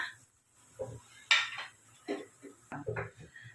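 Fried sweet fish coated in sesame being scooped into a strainer to drain the oil, heard as a few soft metallic clinks and scrapes of utensils against cookware, separated by quiet gaps.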